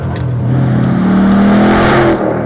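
A 2015 Chevrolet Camaro Z28's 7-liter, 505-horsepower V8 revs steadily upward, a loud sustained engine drone rising in pitch from inside the car with no talking.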